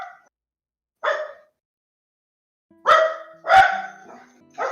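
A dog barks in a few loud, close bursts, one short bark, a pause, then three more in quick succession, with no talk over them.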